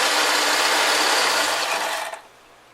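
A ratchet tightens something down on a Ford F-100 engine, producing a rapid, dense, close mechanical clicking buzz that runs steadily for about two seconds and then stops abruptly.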